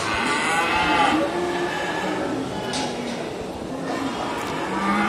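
Simmental cattle at a crowded livestock market give a few muffled moos amid a dense, continuous din of animals and people chatting, with a faint high tone early on.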